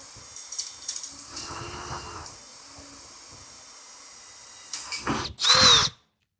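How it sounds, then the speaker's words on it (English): A power drill with a 1/8 inch bit bores a hole through metal lubricated with cutting oil for a Ryobi 48V battery bracket, starting with a quieter whir and ending in a loud, shrill burst of drilling before cutting off. "make sure the drill bit is in the divot and drill a hole"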